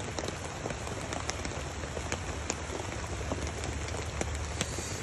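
Steady rain pours down during a sudden shower at a fishing spot, an even dense hiss with scattered close drops spattering on surfaces, continuous and alone.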